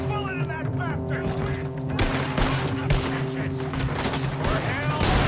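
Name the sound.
gunshots in the video game Red Dead Redemption 2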